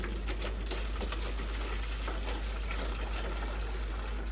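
Water pours from a plastic water jug with its top cut off into dry mushroom substrate, making a steady, close splashing gush that runs without a break throughout, with no voices.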